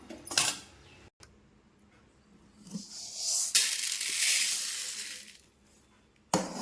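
Roasted chana dal, urad dal, cumin and pepper are poured from one vessel into another, giving a rattling, hissing pour that swells for a couple of seconds, with a few sharp clinks before and after.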